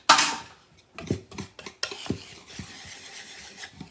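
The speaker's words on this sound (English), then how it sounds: "I'm going to use a whisk to whisk that up all together" A whisk rasps and clinks through dry cookie ingredients in a bowl, in short irregular strokes that scrape against the sides, close and fairly loud, with no talking.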